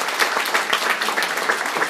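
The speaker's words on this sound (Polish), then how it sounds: "Wielkie brawa." A crowd of residents at a town meeting in a university hall in Leszno gives sustained, dense applause, many hands clapping together in a steady roar close by.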